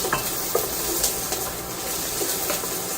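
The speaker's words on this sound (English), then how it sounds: "You're going to saute that, because then you're going to throw in your mushrooms" Chopped celery sizzles as it sautés in a hot pan and is stirred around, with a steady close frying hiss and a few scraping clatters.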